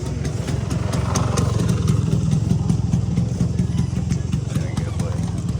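A motorbike engine runs steadily throughout, a low droning rumble with faint clatter, close and continuous, while people talk over it.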